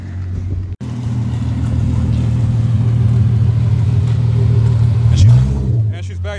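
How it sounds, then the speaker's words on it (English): A MK2 Jetta coupe with a swapped 3.2 VR6 and straight pipe exhaust, its loud, deep idle rumbling steadily nearby before a brief rev swells the note, with people talking over it. "It's straight pipe still, but we just want to get this test drive going."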